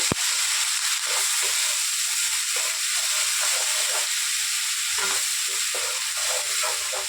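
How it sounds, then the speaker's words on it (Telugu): Onion masala paste hissing loudly as it drops into hot tempering for meal maker kurma, a dense, steady sizzle with steamy crackle and stirring scrapes, close and continuous, with no voices. "ఇప్పుడు మనం దీంట్లో వేసేద్దాం. తాలింపులోకి వేసేసేసి బాగా కలిపేద్దాం ఒకసారి"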